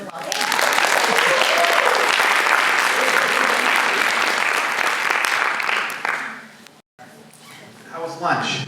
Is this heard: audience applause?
yes